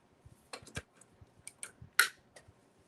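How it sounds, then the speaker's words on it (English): Ink cartridges clicking into place in an Epson WF-7820 printer, several sharp plastic clicks spaced irregularly, close and fairly quiet over low handling noise. "Now these do click when you put them in, so you'll know if they're in there."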